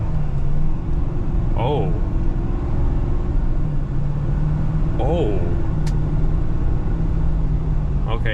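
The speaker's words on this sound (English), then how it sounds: "So we're gonna do a little brisk acceleration here." A 2021 Ford F-250 Black Widow pickup pulls away under brisk acceleration with a steady low engine drone, a voice speaking briefly over the cabin rumble.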